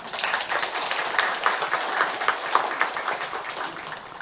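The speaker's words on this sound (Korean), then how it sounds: "박수 한번 칠까요?" Congregation in a church claps together after a sermon, steady scattered hand-claps of moderate loudness going on for several seconds with no speech over them.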